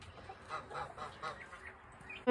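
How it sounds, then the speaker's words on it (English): Geese on a North Carolina farm honk in a soft, scattered series at moderate distance, with a louder burst close by at the very end. "These are the quiet geese."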